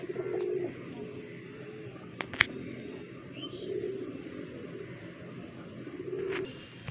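Highflyer pigeons coo softly in a few short, soft bursts at the start, middle and end, close by, with a couple of sharp clicks and faint background hum between them.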